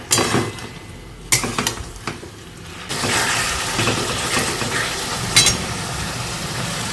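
A spoon scraping and clattering against a pan while potato-free curry is stirred and fried down, with intermittent metallic knocks and a steady sizzle in the second half.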